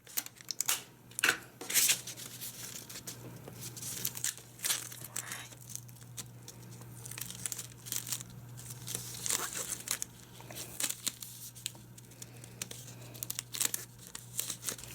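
Tape torn off a roll and pressed onto a folded paper origami sword, giving repeated crinkling and ripping bursts up close with soft handling rustles between them and no voices.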